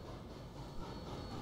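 A train rumbles past in Team Fortress 2, a steady, dense low roar with faint rolling rattle that stays loud and unbroken throughout, with no voices.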